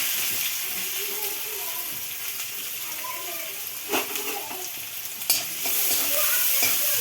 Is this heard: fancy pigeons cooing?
no